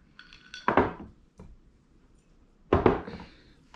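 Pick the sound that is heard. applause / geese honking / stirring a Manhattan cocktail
stirring a Manhattan cocktail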